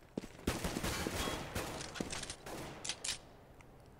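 Gunfire in the Counter-Strike map de_cache during a fnatic vs. PENTA Sports match at ESL One Katowice 2015: scattered sharp shots and short bursts, some close and loud, others fainter, ending in a quick pair of cracks.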